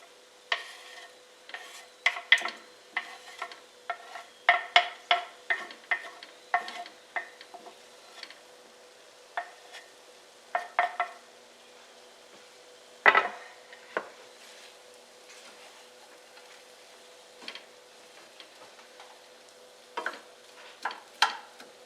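Apple pieces cook in a pan over a low flame, with soft sizzling under repeated scraping and stirring clicks of a utensil against the pan, mostly steady with occasional louder knocks.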